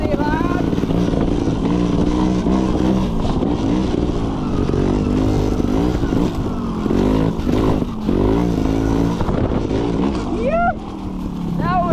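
Trials motorcycle ridden nearby with a revving, rising and falling engine note and clattering, while people shout and cheer over it throughout.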